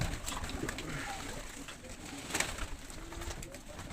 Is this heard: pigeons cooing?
yes